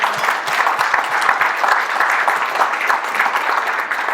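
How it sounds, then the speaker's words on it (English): A banquet audience at a charity dinner applauds, with dense, steady clapping from many hands filling the room and lasting for several seconds at a fairly loud, even level. "So give us all an applause here."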